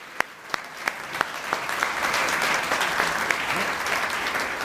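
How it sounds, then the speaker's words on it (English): Audience at a state service awards ceremony breaks into applause for volunteers, opening with a few crisp, evenly spaced claps before swelling into a broad, sustained wash of clapping from a large room. "Can we have a little round of applause for folks up here helping us"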